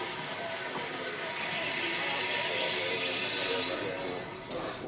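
A steam tank engine locomotive passes with a loud, steady roar of hissing steam and rolling wheels, filling the whole stretch without a break.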